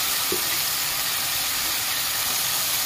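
Spices — cumin powder, turmeric and chili — sizzle and hiss steadily in hot oil in a pan while Barishal-style tel koi fish cooks, a close, continuous broadband fry with no talk.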